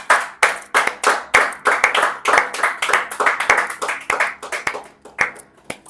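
A church congregation claps in acclaim during a sermon: a quick, steady run of sharp, close hand claps lasting several seconds, with no voices heard.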